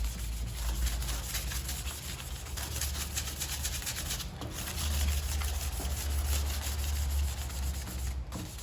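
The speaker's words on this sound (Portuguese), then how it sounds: "Vamos passando o pão aqui." French bread being scrubbed back and forth over barbecue grill grates, a loud, steady close rasping rub with slight rhythmic surges and no talk.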